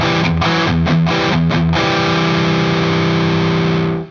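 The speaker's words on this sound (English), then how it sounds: "I used to call it a backwards power chord because I didn't know what it was." A distorted electric guitar plays a minor third interval in a metal style, a few choppy stabbed chords followed by one sustained ringing chord that cuts off abruptly.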